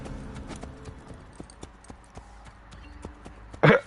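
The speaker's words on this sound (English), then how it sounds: "The horse still moving us." Horse hooves clip-clopping at a steady rhythmic gait in the video game Assassin's Creed 2, with a brief loud burst near the end.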